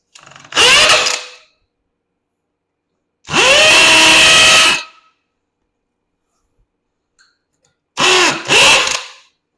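A power drill bores out rivets from a golf cart floor under the mat in three separate bursts of loud, whining grinding, each about a second long, with quiet gaps between them.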